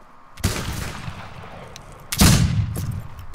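Two heavy rifle shots boom out in a video game, one early and a louder one about two seconds later, each followed by a long rumbling echo tail, with a few fainter distant pops between.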